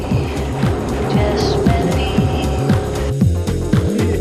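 A Group B rally car drives a Super Killarney stage at the Rally of the Lakes. Its engine revs rise and fall again and again as the gears change, loud and fairly close.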